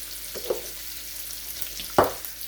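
Onion and bacon fry quietly in a pan with a soft, continuous sizzle, broken by a couple of brief scraping stirs.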